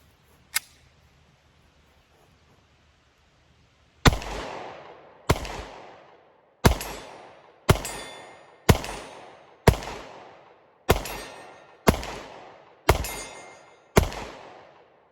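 A CZ P10S pistol fires 124 grain Blazer ammunition at 40 yards: one early loud shot, then a pause and ten sharp, evenly spaced shots about a second apart, each with a short echoing tail.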